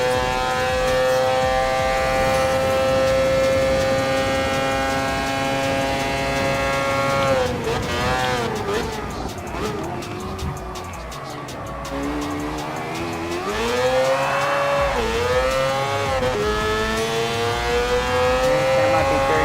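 A Mazda 787B rotary race car in Gran Turismo Sport screams at high revs, its sustained wailing engine tone climbing through gear shifts with brief dips before pulling up again toward top speed, loud and continuous.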